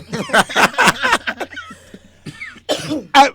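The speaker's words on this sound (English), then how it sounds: "Why are you guys coughing?" Several people coughing and clearing their throats in a burst of short, close, harsh coughs, with a brief quiet gap and a final loud cough, mixed with faint snickering.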